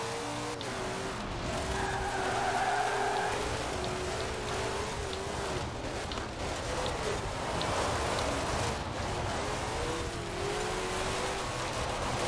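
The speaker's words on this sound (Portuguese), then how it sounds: "olha o drift desse carro" A race car drifts in the Forza Horizon 4 video game, its engine note rising and falling while tires squeal in a long skid, heard fairly quietly and alone.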